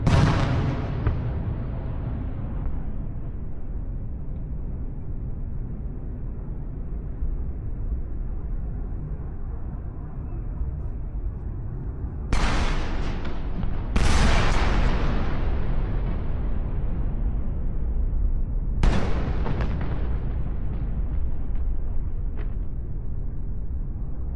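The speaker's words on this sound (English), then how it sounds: "The coordinated strike represents the largest single barrage reported targeting major population centers across the Negev and Judea regions." Explosions from a missile barrage striking population centers across the Negev and Judea regions: a steady low rumble, then three sharp loud blasts with lingering roar, heard from a distance with no talk.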